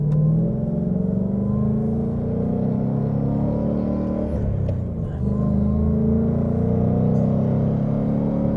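A Ford Mustang Bullitt V8 heard from inside the cabin while driving, a steady low engine rumble that swells slightly as it accelerates, with no talk.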